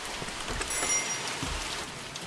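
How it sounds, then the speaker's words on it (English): Steady, dense rain pattering on a surface in the horror video game The Mortuary Assistant, a continuous moderate hiss with no voices. "it's raining. Let me sit right beside the window."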